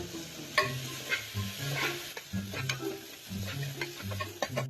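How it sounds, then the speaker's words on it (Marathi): Chicken pieces sizzle in a pan for chicken curry while a utensil stirs them, producing irregular scraping strokes over a soft, steady frying hiss, heard up close. "त्याच्यामध्ये आता चिकन टाकलेलं आहे आणि मग त्याचे बाकीचे मसाले नंतर त्याला फोडणी देऊ"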